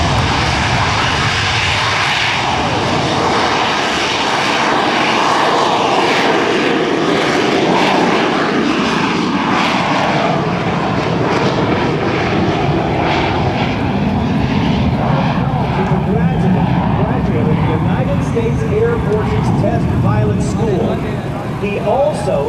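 Harrier jump jet at an air show spooling its engine up for a possible vertical takeoff, a loud, steady roar that builds and holds throughout, with a commentator talking over it.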